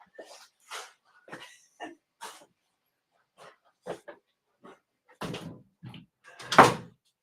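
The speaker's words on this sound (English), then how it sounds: "Hang on, I have to close the door." A series of scattered clicks, bumps and rattles, ending with a louder thud like a door swinging shut, with faint noises between.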